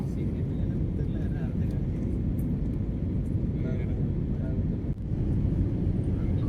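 Inside a passenger airliner descending at night toward Hyderabad before landing, a steady low cabin roar of engines and airflow fills the space, with one brief dip and a soft thump near the end.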